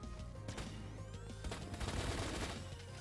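Brimstone laser assault rifle fired in the Borderlands game, a dense stream of rapid zapping laser shots running steadily for about three seconds over a low rumbling game backdrop.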